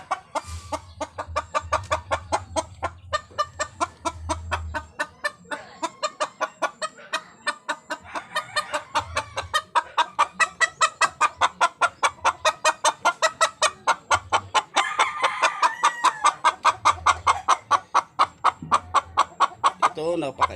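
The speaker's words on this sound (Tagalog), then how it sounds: "May bago akong manok." Chickens cluck rapidly and continuously nearby, a dense chatter of short calls that grows busier toward the end, with a low hum underneath.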